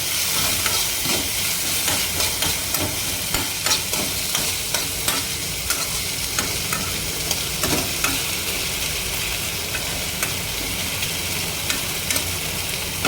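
Tomatoes frying in a pan over a high flame, a steady hissing sizzle with regular light taps and scrapes of a spoon stirring, close and continuous with no voices.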